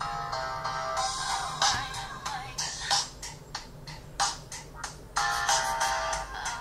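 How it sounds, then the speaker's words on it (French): Pop music plays through a small, tinny THL L969 phone loudspeaker, with thin bright tones and rhythmic bursts, fairly steady in level. "c'est un son de haut-parleur de téléphone"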